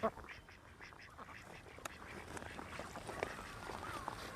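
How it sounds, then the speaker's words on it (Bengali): Ducks quack repeatedly at a distance on a pond as they come in for scattered feed, fairly faint, amid soft outdoor background noise. "দেখতে পাচ্ছেন হাঁস চলে আসছে"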